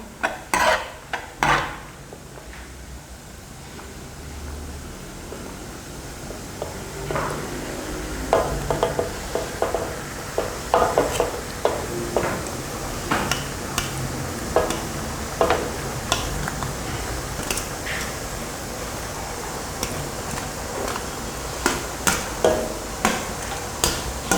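Pre-boiled macaroni stirred into a cooking pot, a spoon knocking and scraping against the metal in uneven bursts of clinks over a faint background sizzle, close and fairly loud, with no voices.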